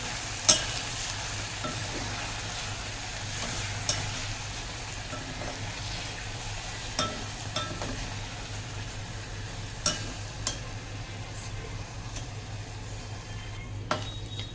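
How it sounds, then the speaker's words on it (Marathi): A jaggery mixture is stirred continuously in a pan, producing a steady low scraping and soft sizzle with occasional sharper clicks of the spoon against the metal. "हे सर्व मिश्रण आपल्याला छान हलवून घ्यायचं आहे खाली चिपकलं ना चिपकणार नाही याची काळजी घ्यायची आहे आणि ते कंटिन्यू हलवायचं आहे"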